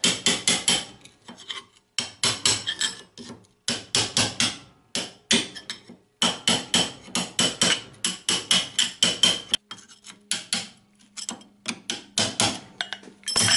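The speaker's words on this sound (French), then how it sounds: "Après, donc, je les fais sauter au burin." A hammer drives a cold chisel to knock off rivets and spot welds on a Citroën 11 driveshaft part, giving rapid bursts of sharp metallic strikes in quick runs separated by short pauses, close and loud.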